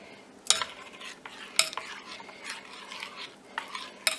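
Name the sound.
stirring hot jaggery syrup into appam batter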